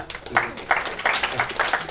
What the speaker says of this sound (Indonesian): Tepuk tangan untuk Legio Maria